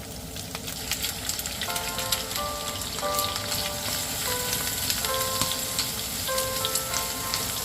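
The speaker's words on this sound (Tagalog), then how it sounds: "isabay ng igisa ang bawang at laso na" Garlic and onion sauté in a pan for Ilocano buridibod, making a continuous close sizzle and crackle with faint tonal notes in the background.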